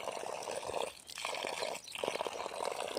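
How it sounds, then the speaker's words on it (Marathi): Water pours from a pipe in a steady, continuous gush, fairly close, with two brief dips in flow, and no talking over it. "पाणी पडते"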